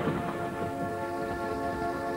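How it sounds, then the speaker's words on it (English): Rain falls in a steady, dense hiss that stays even for the whole brief moment, with no other clear sounds. "It rained."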